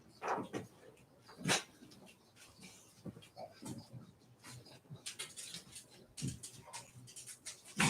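Dogs bark and whimper in short, uneven bursts at moderate distance, mixed with yips and mostly faint under a quiet background with some speech.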